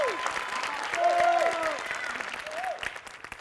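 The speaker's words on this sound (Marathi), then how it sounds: "श्यामसाठी एकदा जोरदार टाळ्या." An audience at a comedy show bursts into loud, sustained clapping, with a few faint voices and whistles mixed into the applause.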